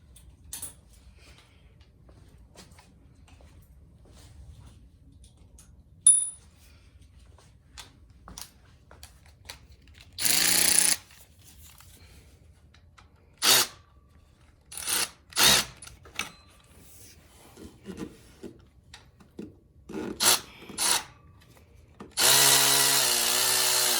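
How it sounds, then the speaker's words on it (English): An impact wrench buzzes off water pump bolts on a 2010 Ford Transit Connect 2.0 L in several short, loud bursts separated by quiet pauses and small clicks of tools, with a longer final burst. "we're gonna try to do it a little bit faster with my impact"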